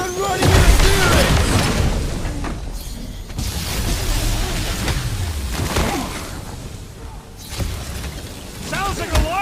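Guardians of the Galaxy video game battle with heavy flak bursts and gunfire, a dense, loud wash of booming blasts and rumbling noise under continuous speech.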